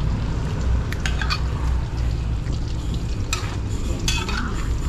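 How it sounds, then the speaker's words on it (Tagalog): Seafood laing being stirred in a pot makes a thick, bubbling, scraping churn throughout, with a few clinks of a utensil against the pot. The sound is close and fairly loud, and there is no speech. "haluin po muna natin"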